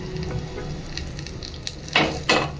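Pizza buns sizzling and frying in a pan after being flipped, a steady hiss with faint scraping, then two louder bursts of sizzle near the end as pieces are turned; no talking.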